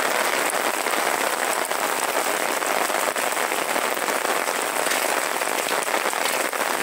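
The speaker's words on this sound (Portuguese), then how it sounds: "Chuva na cidade de Sobral, no estado do Ceará." Steady heavy rain pours at night in the Pedrinhas neighborhood of Sobral, Ceará, a loud, dense, unbroken hiss of drops hitting surfaces with no voices.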